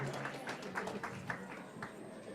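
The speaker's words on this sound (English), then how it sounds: "Give it another round of applause" Faint, thin applause from an audience at a Diwali program in a Hindu temple, steady scattered clapping heard from a distance with a murmuring crowd underneath.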